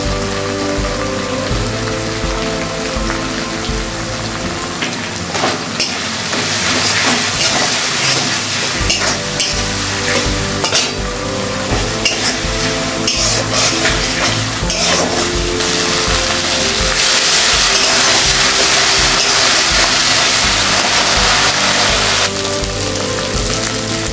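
Spice masala with packaged Amul yogurt sizzling steadily in oil for a potato and pointed gourd curry, a dense continuous crackle like heavy rain that swells slightly toward the end, with no talking.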